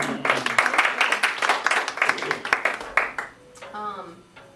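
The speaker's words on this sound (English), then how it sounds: "Especially that part that you guys can clap." Audience members at a cello ensemble festival clap briskly and densely for about three seconds. Then the clapping stops and a person begins speaking.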